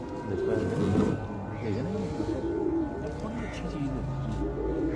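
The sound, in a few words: pigeon cooing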